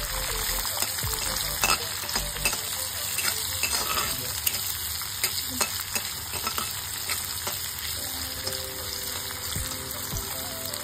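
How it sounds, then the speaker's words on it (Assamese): Onions sizzle and crackle steadily as they fry in oil, with occasional scraping from stirring, close and continuous. "পিয়াজখিনি অকমান সময় ভাজি লওঁ"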